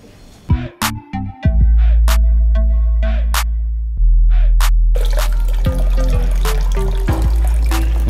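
Boiled, cooled water is poured and dribbled while salad vegetables are washed, with a few sharp clatters and drips early on, then a steady loud trickling and splashing close by, with no voices.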